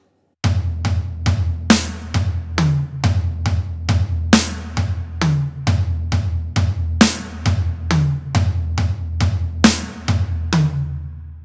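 A looped drum groove in 16th-note triplets moves between floor tom, snare and high tom in a steady, fast, evenly repeating rhythm, loud and close, with cymbal wash ringing over the hits and no voices.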